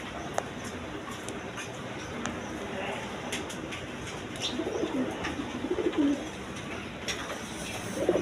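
Satin pigeons coo softly in a loft, with low murmuring calls swelling in the middle amid scattered clicks and faint background voices.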